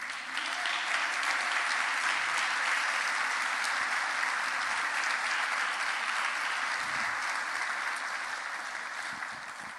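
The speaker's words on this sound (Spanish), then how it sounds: "hermano, dele un aplauso al Señor" A church congregation claps steadily for nearly ten seconds, dense, sustained applause that fades slightly at the end, with no voices rising above it.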